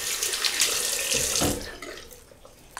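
Tap water running into a sink before shaving with an adjustable razor, a loud steady splashing rush that cuts off about halfway, followed by quieter drips and handling sounds.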